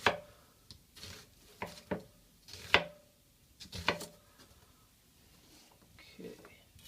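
A knife cuts food into chunks for turkey stock: a handful of sharp, separate chops and thuds spaced across a few seconds, close and fairly quiet, with a faint clink near the end.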